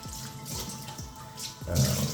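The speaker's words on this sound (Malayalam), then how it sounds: "ഇനി ഇതിലേക്ക് വെള്ളം ചേർക്കണം" Water poured into a pot of cooking mutton, a continuous splashing gush with gurgling bursts that grows louder toward the end, no voices.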